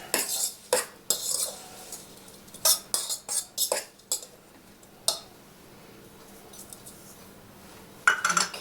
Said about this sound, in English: So mix it, spread some more around, mix it